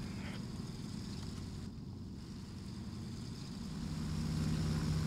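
A Grumman Goose seaplane's engine in ARMA 3 drones on continuously, a steady low hum under wind-like noise, growing slightly louder toward the end.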